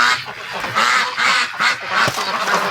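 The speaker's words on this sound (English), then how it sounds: "So let's go see what the duckies are doing." Several ducks quack repeatedly and loudly at close range in a barn in -33°C cold, overlapping calls in an enclosed space.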